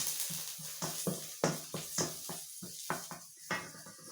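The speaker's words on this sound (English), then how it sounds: "You can stir it." Garlic being stirred in a warm pan, with a run of short scraping and clattering strokes in an uneven rhythm, close and fairly loud, and no voices.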